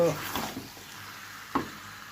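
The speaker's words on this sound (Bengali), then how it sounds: "এটা আর খানিক্ষণ অল্প তাপে ভাজতে হবে আর এখন মাঝে মাঝে নেড়ে দিতে হবে" Spiced meat fries on low heat in a pan while being stirred now and then, a soft steady sizzle with a few scraping stirs and one sharper clack near the end.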